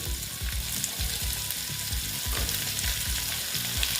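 Drumstick stalks fry in hot oil with a loud, steady sizzle and repeated stirring scrapes close by, continuous and with no voices.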